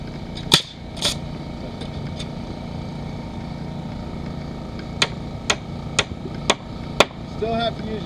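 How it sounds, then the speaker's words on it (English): A hammer strikes while a shed is being built: two sharp blows early on, then five evenly spaced strikes later, loud and close over a steady low rumble of background noise. "Still have to use your hammer every once in a while."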